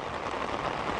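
Heavy rain falls steadily in a jungle, a dense, even hiss of drops heard close and alone for about a second with no voices.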